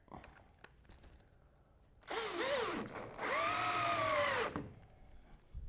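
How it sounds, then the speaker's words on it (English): Cordless drill fitted with a nut driver runs up lag screws while mounting the bracket for a UFO LED high bay light, two loud whining bursts with pitch rising and sagging under load, separated by a brief pause, close up. "Now with the nut driver in my drill, I'm just going to start these lag bolts, lag screws."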